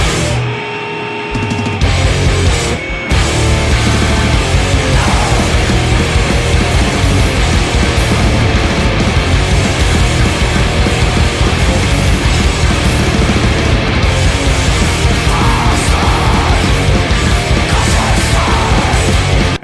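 A rock song plays loud and dense throughout, full-band distorted instrumentation filling the whole stretch after a brief quieter opening.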